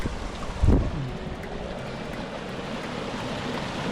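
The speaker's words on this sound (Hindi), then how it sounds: "साथ साथ पगडंडी के साथ साथ जो है वो पानी चल रहा है दोस्तों।" Water runs in a small stream beside a footpath in Sayyad, Sar-e-Pol, Afghanistan, a steady broadband rush with wind noise and a brief thump near the start.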